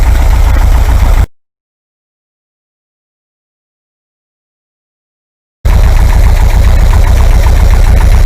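Air-cooled VW 2-litre engine idling as it warms up, a loud, steady low rumble heard near at hand before and after a long silent gap.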